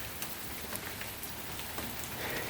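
Steady rain falls everywhere outdoors near a dirt-covered drain, a continuous dense hiss of drops pattering on surfaces with a few louder splats, close and fairly loud throughout.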